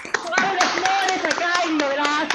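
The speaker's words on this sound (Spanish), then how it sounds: "Aplaudimos." A small audience claps at the close of a lecture on ballet history. Sharp, scattered handclaps run throughout while voices talk over them.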